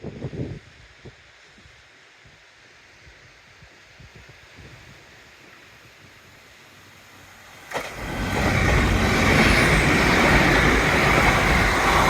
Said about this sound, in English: I mean the one the train was making, of course.